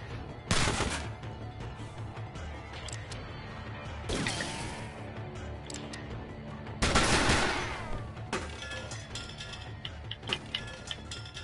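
A submachine gun fires in a video game as several sharp, loud bursts of rapid shots separated by gaps, with fainter clicks and ticks in between.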